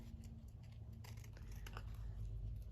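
Scissors snip through paper to cut a botanical gift tag shape, quiet repeated cutting clicks over a low steady background hum, faint and close, with no talking.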